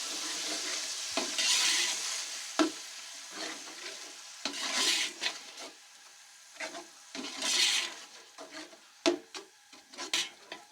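Tomato paste is stirred into chicken pulao masala frying in a pot, giving a soft sizzle under repeated scraping and stirring strokes of a spoon, close and uneven in rhythm.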